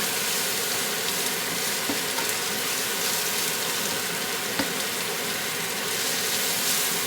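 Onions for shrimp etouffee fry in a pan, giving a dense, even sizzle that stays loud and constant from start to finish with only faint stray clicks.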